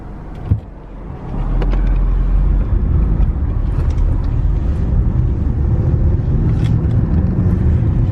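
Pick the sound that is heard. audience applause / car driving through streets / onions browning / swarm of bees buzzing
car driving through streets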